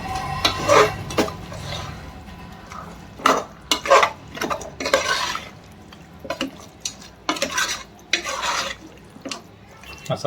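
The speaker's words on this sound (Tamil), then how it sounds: "எல்லாம் சேர்க்குற மாதிரி கிண்டி விட்டுட்டு நல்லா கிண்டிக்கோங்க" A metal spoon stirs mutton head curry masala in a pot, giving irregular close clinks and scrapes against the vessel with soft wet stirring in between.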